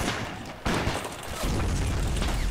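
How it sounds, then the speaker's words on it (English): Cannon fire from an American Civil War mod of a battle game: a sharp blast followed by a second heavy boom that rolls into sustained low rumble, loud and near. "Oh, another cannon shot."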